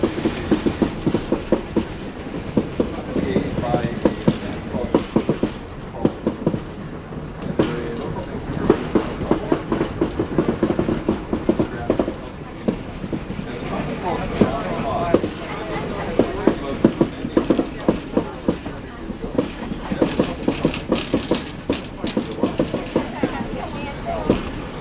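A passing train rattles past up close with rapid, repeating clickety-clack of wheels over rail joints, loud and continuous for the whole stretch, with people talking over it.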